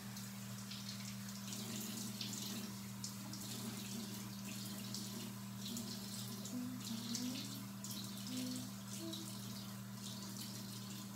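Water runs from a bathroom tap while hair removal cream is rinsed off, a quiet, steady splashing stream over a low constant hum, with faint sounds of washing.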